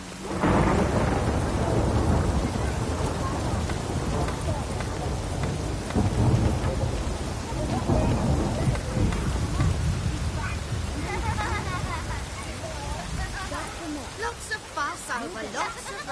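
Heavy rain pours down steadily while deep rolling thunder rumbles loud and close early on, easing later into scattered patter and drips; voices talk over it.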